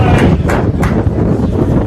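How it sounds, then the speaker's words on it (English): Strong wind buffeting the microphone at an outdoor non-league football match at Farsley Celtic's ground, loud rumbling gusts that swell and fade over a few seconds. "Very windy conditions here now"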